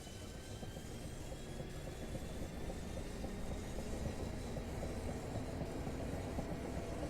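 A Class 465 electric multiple unit in a train simulator game pulls away and runs at speed, giving a steady, loud rolling rumble with a faint rising motor whine and no talk over it.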